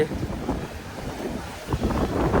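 Fast-flowing sea water rushes at Arichal Munai, the southern tip of India, a steady churning wash of surf with heavy wind buffeting the microphone throughout.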